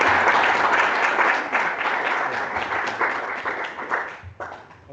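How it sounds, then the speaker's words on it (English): An audience applauds at the end of a talk on digital railway signalling and train control, with dense clapping that gradually thins and fades over five seconds. "Some applause from the online audience as well."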